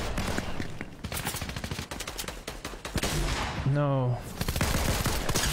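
Rapid video-game gunfire rattles in dense repeated bursts almost without pause, loud and close, while a player talks over it.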